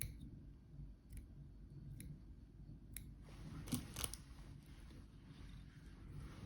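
Small scissors snip excess marabou feathers on a fly-tying streamer, giving a handful of faint, close clicks and one brief louder snipping cluster in a quiet room.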